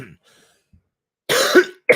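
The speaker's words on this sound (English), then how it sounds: "I take a cough drop and it makes me cough." Harsh coughing bursts from a person who has just taken a cough drop, a faint first cough then a loud close fit of two or three hacking coughs with throat clearing, and another cough starting at the end.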